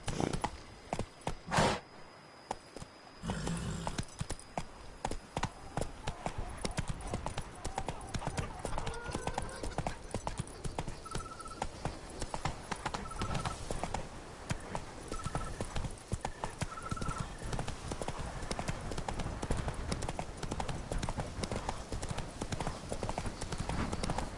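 The horse in The Witcher 3 gallops with rapid, continuous hoofbeats throughout. A voice speaks to the animal over the galloping.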